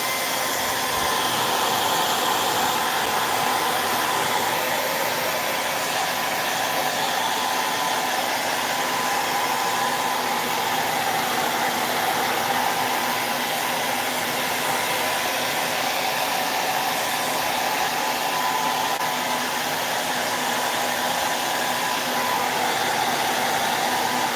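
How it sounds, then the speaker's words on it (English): A hair dryer drying a paint coat on a cabinet door blows continuously with a steady, loud whooshing hum that never changes in level, close by, with no voices. "I am going to use the dryer here and dry this coat"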